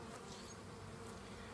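Honeybees buzzing inside a hive during a warm-weather spring check, while the colony clears out dead bees; a faint, steady, even hum with no voices.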